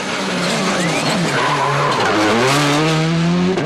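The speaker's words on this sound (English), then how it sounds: "This is Duval approaching the end of stage 6" A WRC rally car races flat out near the end of a dry stage at Rally Germany, its engine note loud and close, shifting pitch through gears with tyres skidding and squealing on the tarmac throughout.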